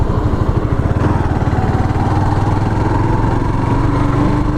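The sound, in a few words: Suzuki GZ250 motorcycle engine running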